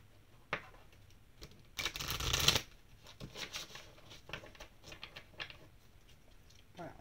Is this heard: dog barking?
no